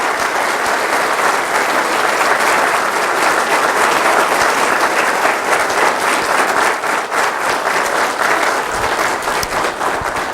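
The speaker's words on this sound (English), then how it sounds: "I want you to applaud these people." A church congregation applauds caregivers who have stood up at the pastor's request, with steady, loud, continuous clapping filling the room for about ten seconds.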